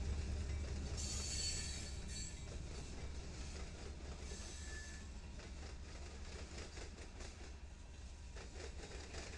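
Union Pacific freight train led by a Western Pacific heritage unit with KCSM Grey Ghost and Ferromex locomotives, heard as a steady rumbling roll of wagons with rhythmic wheel clatter and occasional squeal, moderately distant and without talk.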